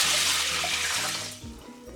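Water runs steadily into a cooking pot of split peas, a close, rushing pour that tapers off near the end, followed by a sharp clink.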